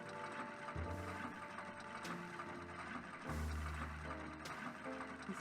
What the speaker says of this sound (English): Keely, is this how sewing works?